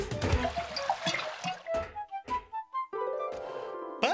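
Animated penguin cartoon water splashes: a gushing pour gives way to a series of bubbly plops and sloshes, then a bright rising watery sweep, all up close with no talking.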